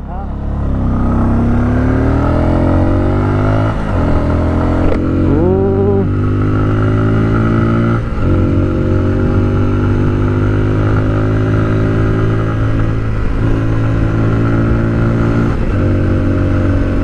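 A Bajaj Pulsar 250 motorcycle engine revs loudly and close while riding, its pitch climbing steadily through the gears with brief dips at each shift, under continuous wind noise.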